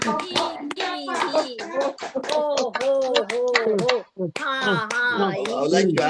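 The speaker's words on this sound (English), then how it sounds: "And let's clap." A group claps hands together during a laughter yoga session, with sharp, irregular claps mixed with lively voices and laughter throughout.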